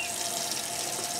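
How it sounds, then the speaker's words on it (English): Tap water runs steadily into a sink during handwashing, a bright continuous hiss and splash heard close up with no talking. "And then we turn on the water."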